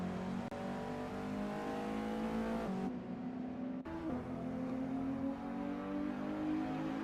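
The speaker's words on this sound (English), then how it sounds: "That car is really unsettled as they push for every last bit of speed." A race car in a sim racing video game straining for top speed, its engine a loud, sustained high drone that wavers in pitch, dips briefly through a gear change, then climbs and holds steady again.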